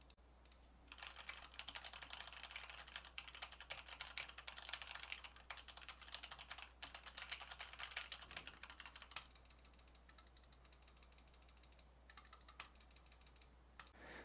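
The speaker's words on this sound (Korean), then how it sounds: "실사용 환경에서 가장 크게 영향을 미치는 키보드와 마우스 버튼을 눌러보도록 하겠습니다." Keyboard keys and mouse buttons clicking steadily near a Turtle Beach Recon 500 headset microphone, a dense run of quick clacks with no voices, over a faint steady low hum.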